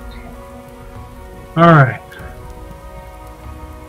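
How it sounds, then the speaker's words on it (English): Steady rainfall in Starbound, a dense even hiss running the whole way, briefly covered by a loud burst of speech near the middle. "Look at all that rain."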